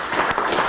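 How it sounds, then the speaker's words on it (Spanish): A meeting audience in Havana gives a dense, continuous burst of applause, steady, close and fairly loud throughout. "Esto hay que empezarlo con un aplauso, este encuentro."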